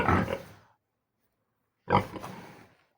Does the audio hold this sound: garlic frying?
no